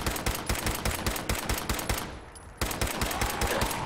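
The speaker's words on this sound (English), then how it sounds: "This is a powerful gun" Rapid bursts of gunfire from a powerful gun in the game Fallout 4, loud repeated shots in a fast rhythm with a brief pause midway before firing resumes.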